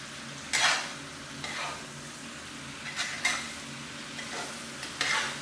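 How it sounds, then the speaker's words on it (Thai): Holy basil leaves and catfish pieces are stir-fried in a hot wok, giving four or five bursts of scraping and sizzling a second or so apart over a steady low crackle, with nobody talking. "ผม ผัดจนใบกะเพราเริ่มสุกนะครับ"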